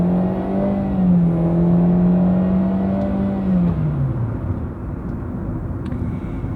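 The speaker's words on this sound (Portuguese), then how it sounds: "Vou dar uma aceleradinha aqui para vocês verem o desempenho." A Chevrolet Spark automatic with a CVT gearbox accelerates, its engine droning at a steady, nearly constant pitch before the tone drops as it eases off, and no one speaks.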